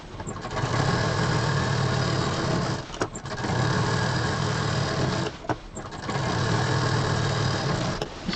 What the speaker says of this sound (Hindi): अब इसका ये दूसरा सिरा भी इसके साथ जोड़ के सेम प्रोसीजर में डबल सिलाई देते हुए